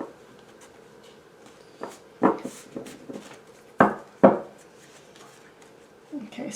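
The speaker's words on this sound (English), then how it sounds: "these cards are really big and difficult to shuffle." Large, stiff tarot cards are shuffled by hand, making a handful of sharp slaps and riffling clicks over soft rubbing, close up and irregular.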